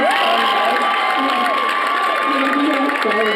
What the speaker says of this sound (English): hearing people cheer for us